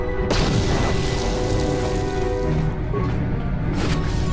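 Blaster fire in the Star Wars KOTOR video game, loud and continuous: a sharp burst at the start followed by a dense, rumbling wash of combat noise with a few more impacts near the end.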